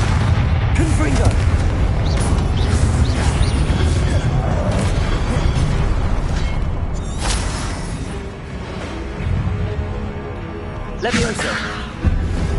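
The Confringo blasting spell in Hogwarts Legacy sets off booming explosions with bursts of crackling impact, dense and loud throughout, amid game effects and a voice.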